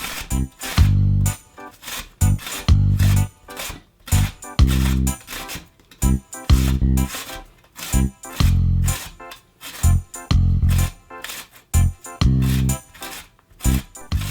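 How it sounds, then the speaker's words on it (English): Two medium potatoes are shredded on the large holes of a kitchen grater, giving loud rhythmic rasping strokes that repeat steadily about once per second, close up and with no talking. "Shred using the large holes of a kitchen grater."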